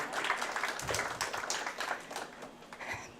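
Audience applause at a Board of Education meeting, a moderate, steady patter of many hands clapping that holds for a few seconds with faint voices mixed in.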